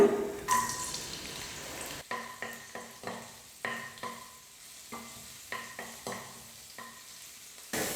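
Garlic and ginger sizzle steadily in hot oil, with a spoon scraping the pan in a quick, regular stirring rhythm. Close and fairly loud, no talking.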